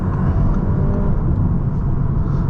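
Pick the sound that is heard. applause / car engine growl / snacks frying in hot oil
car engine growl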